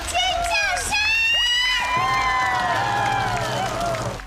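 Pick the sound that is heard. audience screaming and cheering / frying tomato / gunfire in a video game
audience screaming and cheering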